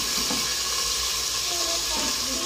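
Onions hitting hot oil in a handi give a steady broadband sizzle with faint hiss and bubbling, close and fairly loud, continuing evenly without talk.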